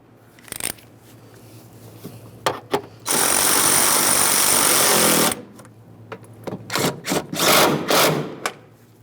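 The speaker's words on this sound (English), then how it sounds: "Start with the upper mounting bolt, and then you can tighten the nut." A power tool rattles in a short sustained burst, running for about two seconds while a washer reservoir mounting bolt and nut are tightened on a Ford Ranger, framed by scattered clicks and taps of handling parts.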